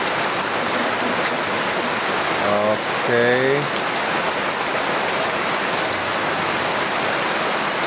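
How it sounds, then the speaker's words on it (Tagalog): A sudden heavy downpour drums steadily outdoors on soaked, sticky ground, a dense unbroken hiss filling the whole stretch, with one brief spoken word near the middle. "Lakas ng ulan na yan, oh."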